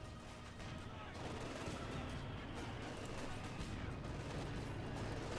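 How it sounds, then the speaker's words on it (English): Dense battlefield gunfire in the strategy game Company of Heroes 2, with rifle and machine-gun bursts and heavier shots merging into a steady, loud din; a commentator talks throughout. "More shooting there."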